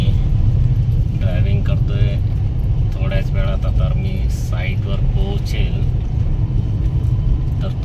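A car engine rumbles steadily nearby as the vehicle moves off at a building construction site in the rain, with people talking throughout.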